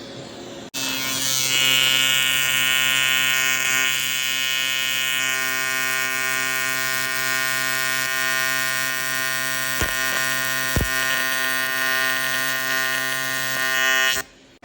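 TIG welding on aluminum with contaminated tungsten: a steady, loud electric buzz and hum with harmonics runs almost unbroken for about fourteen seconds, with two brief dips near the end before it cuts off.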